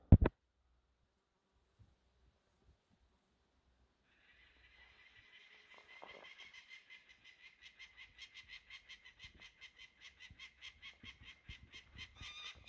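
Parrot-like birds at an abandoned quarry give a long series of rhythmic, nasal, honking calls that start faint and build steadily, repeating in quick regular pulses after a sharp knock and near silence at the start.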